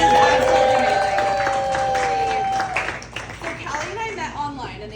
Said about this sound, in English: just a round of applause for Callie, because this is absolutely amazing